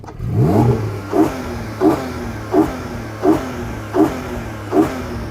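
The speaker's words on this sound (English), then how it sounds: "its naturally aspirated flat 6 sounds like this." A 2021 Porsche Cayman GTS naturally aspirated flat-six engine revs hard once, then blips repeatedly in a steady rhythm of seven short, sharp revs, loud and close, with no talking.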